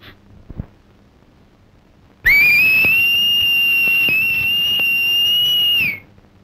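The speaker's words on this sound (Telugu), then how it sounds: "ఆ సంబరంలో మళ్ళీ ఈల కొట్టిందంటే" A woman gives a long, loud, piercing finger whistle held steady for several seconds, starting abruptly and cutting off sharply, with faint background noise before it.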